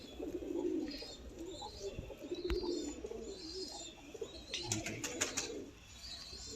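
Pigeons of a breeder's flock cooing softly and repeatedly in a yard, low rolling calls with faint chirps and a few sharp knocks in the background.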